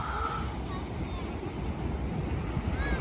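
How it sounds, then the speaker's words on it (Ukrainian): Big sea waves at a beach wash and roar continuously up close, a dense, steady surf rumble mixed with wind. "Сьогодні хвилі дуже великі, я не купалася."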